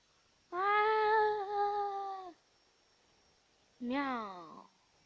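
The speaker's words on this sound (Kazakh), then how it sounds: "Мысық, тиіспе оған." Cat gives two drawn-out meows, the first long and sustained, the second shorter and rising then falling, clear and close with quiet gaps between.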